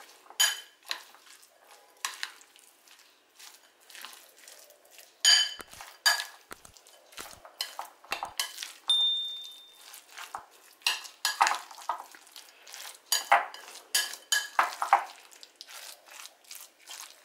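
A spoon stirs pink sauce (salsa rosa) with mayonnaise into a seafood filling for stuffed eggs in a bowl, giving repeated close scrapes, wet squelches and clinks of metal against the dish in an irregular rhythm, with no talking.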